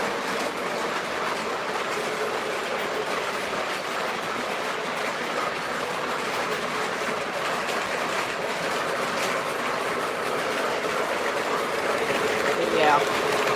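Model trains run along track with a steady, continuous rolling rumble and faint clickety-clack, an even mechanical hum that holds throughout with no clear voices.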